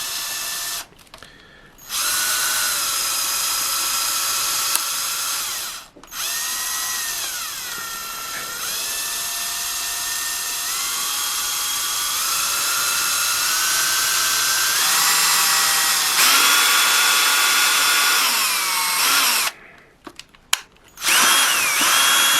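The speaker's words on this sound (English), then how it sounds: "And then you just very slowly and gently, don't rush it, but drill in." A small power drill whines steadily at close range, pausing briefly a few times and shifting pitch as it slowly bites into a Hornby model train coach.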